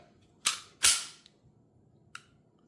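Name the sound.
pistol trigger pull, Smith & Wesson BodyGuard 2.0 Carry Comp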